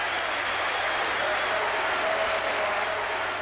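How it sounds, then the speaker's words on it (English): Tottenham fans applaud in a football stadium, a steady, dense wash of crowd clapping and cheering that holds evenly throughout without breaks. "He gets applause from his manager and the bench and from the Tottenham fans as well"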